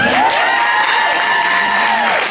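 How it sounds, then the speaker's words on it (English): Audience at a Seagram's Empowerment Tour event in Miami claps and cheers as a speaker is welcomed, a loud, steady wash of crowd noise with tonal cheering over it that holds for the whole stretch. "First of all, clap it up."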